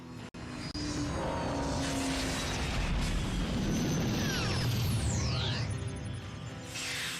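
UFO arriving in the PSP game Silent Hill Origins, a loud sustained mechanical roar with rising and falling sweeping tones and rumbling low end that holds steady for several seconds.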